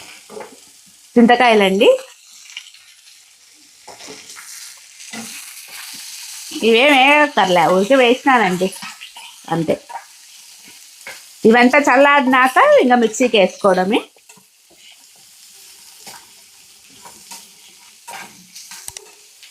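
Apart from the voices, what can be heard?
frying fresh coconut and raw tamarind for chutney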